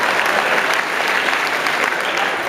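Brief, loud burst of continuous clapping from a comedy club audience during a stand-up showcase, steady and close throughout.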